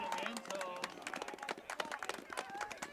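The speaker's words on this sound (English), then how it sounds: "Round of applause here from all the Raiders fans." Scattered clapping and cheering from Raiders fans at a varsity high school football game, irregular hand claps in a small outdoor crowd mixed with voices and shouts.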